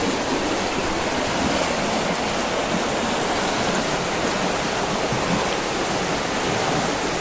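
The Cicatih River in Indonesia rushes around a large stone in midstream, a dense, constant hiss and roar of flowing water, close and loud, with no voices.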